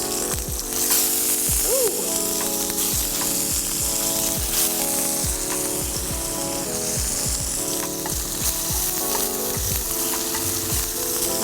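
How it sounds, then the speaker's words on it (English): Lemon slices sizzle loudly and steadily in hot pan drippings for chicken piccata, a constant crackling fry with music playing underneath. "I have these lemon slices that I want to go ahead and cook"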